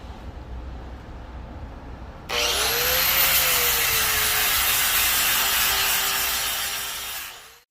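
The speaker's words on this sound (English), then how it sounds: "taking the grinder, going over the whole piece, kind of rounding everything in, and yeah, just smoothing everything out" An angle grinder smooths and rounds over a chainsaw-carved wood sculpture, starting after a quiet lead-in with a loud, steady high whine and abrasive rasp on the wood that holds for about five seconds and then winds down.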